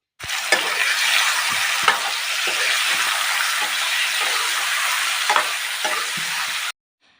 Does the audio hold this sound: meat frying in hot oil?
yes